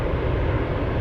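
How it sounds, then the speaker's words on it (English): A Boeing 747 freighter takes off at Anchorage airport, a steady, loud broadband jet engine roar with heavy low rumble that holds constant throughout, with no voices over it. "We're going to have so many 747s take off between the 8 and 10 a.m."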